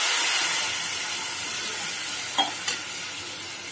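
Water poured into fully melted sugar in a hot pan while making sweet wheat-flour vermicelli (sevai) sets off a loud, steady sizzling hiss of steam, with a few small pops near the end and no talk.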